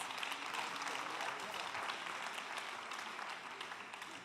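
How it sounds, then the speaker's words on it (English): An audience at a Climathon closing ceremony in Turin claps in sustained, dense applause, fairly distant and even throughout, tapering slightly toward the end. "A big applause."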